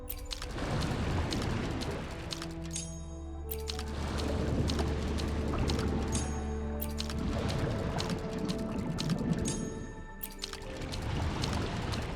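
Water in the video game Wuthering Waves draining away as the level drops in a chamber, a steady rushing, pouring wash that runs continuously under layered game music and tones.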